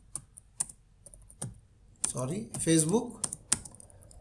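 Typing on a computer keyboard, with sparse, separate clicks followed by a quicker run of keystrokes under someone talking.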